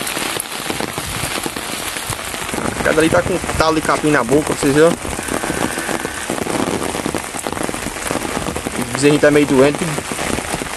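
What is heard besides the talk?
heavy rain falling in the countryside of Bahia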